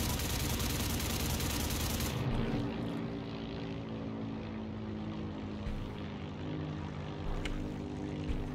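Propeller drone of a Curtiss O-52 Owl in the game Heroes & Generals, loud and steady at first, then dropping to a lower, more distant hum that continues throughout.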